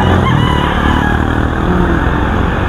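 A rooster crows loudly and close at a gamefowl market in San Jose del Monte, Bulacan, its drawn-out call over a dense background of other chickens and a constant low rumble.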